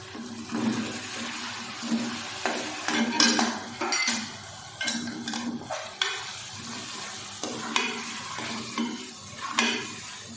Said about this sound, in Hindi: टमाटर प्याज इसी के साथ ये सारे मसाले भी हम भून लेते हैं।